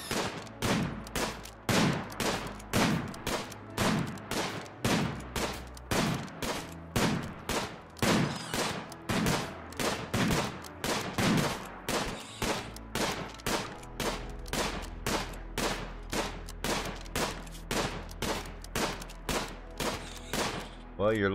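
Gunshots while hunting in Rimworld: a long series of sharp, evenly spaced shots cracking out at a steady rhythm, roughly one per second, fairly close and loud, continuing for about twenty seconds.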